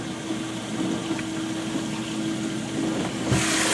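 A small water pump hums steadily on a fishing boat, oxygenating the live well; a constant low drone with a faint tonal whine runs throughout, with a brief bump near the end.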